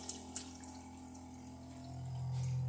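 Hot water, about 45 Celsius, runs from a tap in a steady hiss, with a few drips and clicks at the start and the flow growing stronger toward the end.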